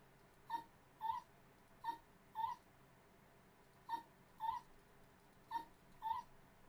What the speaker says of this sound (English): The puppies huddle together, whimpering pitifully.